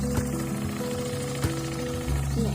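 Rhythmic mechanical pounding and a steady machine drone carry across rice fields from pile driving for a concrete bridge, with sharp periodic thuds over a constant engine hum at moderate distance.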